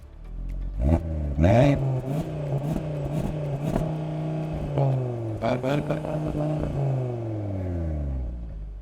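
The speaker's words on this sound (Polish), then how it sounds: "mamy tutaj charakterystyczny dźwięk 5-cylindrowego silnika" An Audi RS 3 five-cylinder engine revs repeatedly, climbing and falling in pitch with sharp throttle blips and a steady idle rumble between them, loud and close.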